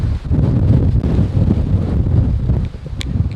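Constant heavy wind rumble against the microphone on a coastal road, gusting unevenly, easing briefly near the end, with a faint click.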